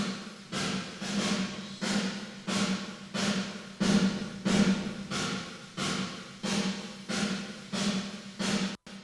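A drum groove sent through a large room reverb, EQ'd beforehand to cut low-mid mud around 200 Hz, with a steady, even beat of roomy, washy hits played alone.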